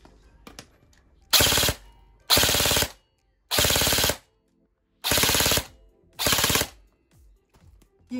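Five separate full-auto bursts from an ARES Amoeba AM-013 electric airsoft gun, each a loud, rapid rattling string of shots about half a second to a second long, with short silent gaps between bursts.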